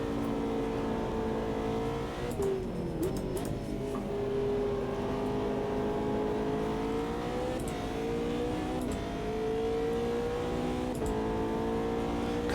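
A GT3 race car engine in the sim racing game Automobilista 2 drones steadily, its pitch rising and dipping with throttle changes and brief shift blips, loud and continuous with no talking.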